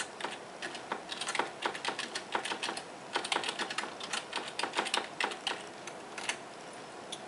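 Typing on a keyboard to send text over serial from a Pandaboard to an Arduino running an echo program: rapid, irregular bursts of crisp keystrokes close to the mic, with nothing else heard.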